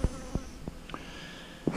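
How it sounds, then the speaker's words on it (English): Large cluster of honey bees hanging in a ball over a five-frame nuc box at an apiary as rain begins, with a steady buzzing hum and several sharp close bees zipping past the microphone. "here is a big gob of bees hanging all over this 5-frame nook right here"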